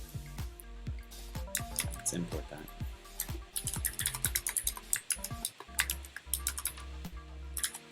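Quick bursts of clicking keystrokes rattle across a computer keyboard during coding work, coming in uneven flurries and pauses while a person talks over them.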